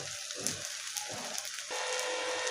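Cabbage vadi fry in oil on a griddle, a steady loud sizzle and crackle that swells stronger partway through, with no talking.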